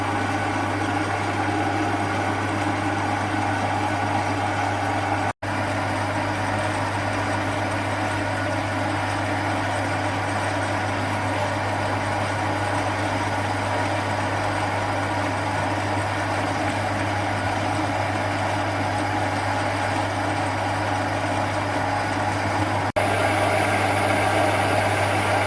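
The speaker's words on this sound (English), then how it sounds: "You should be able to machine with that overhang on the cutter without any chatter" A Chinese CQ9325 10 x 18 metal lathe cuts metal with an overhanging cutter, producing a steady, continuous machining drone with a constant hum underneath, unchanged for the whole stretch and free of chatter or voices.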